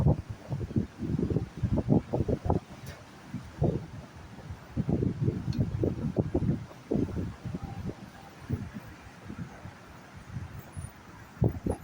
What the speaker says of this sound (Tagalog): So mahangin siya ngayon.